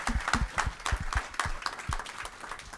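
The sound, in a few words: audience round of applause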